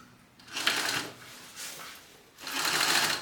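A sewing machine stitches along a straight edge in three short bursts of rapid, rattling needle action, close and fairly quiet, with brief pauses between runs and no talking.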